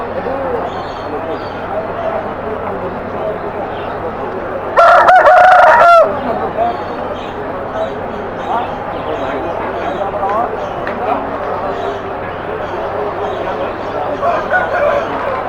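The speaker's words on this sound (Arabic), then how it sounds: "هذا ديك هراتي شوكي" A Herati rooster at a busy animal market gives one loud, harmonic crow of about a second near the middle, with crowd chatter and people talking all around it.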